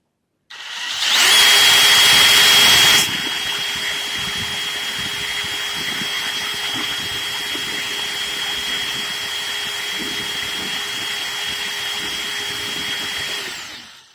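Continuous high whine of a power drill boring into a clay olla pot for an irrigation system, louder in the first couple of seconds, then a constant drone until it stops.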